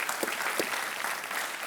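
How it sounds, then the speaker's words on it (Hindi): Steady applause from a studio audience on a TV quiz show welcoming a contestant, continuous and fairly quiet, with a couple of sharper claps standing out. "इनका तालियों के साथ स्वागत किया जाए।"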